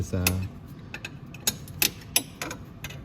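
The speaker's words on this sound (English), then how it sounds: "I find it easier to do the right side with a wrench" A wrench is being worked on the front exhaust manifold bolts of a Venom X22 125cc motorcycle, giving a series of sparse, close metallic ratcheting clicks spaced irregularly, with a brief low murmur at the start.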